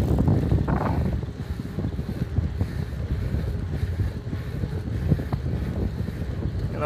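Steady, blustery cold wind rumbles and buffets the microphone throughout, a low continuous roar with no voices.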